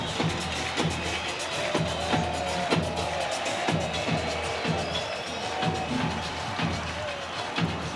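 Thousands of fans cheer at Estadio Rod Carew during a World Baseball Classic qualifier, a steady, loud crowd roar broken by scattered claps and thumps.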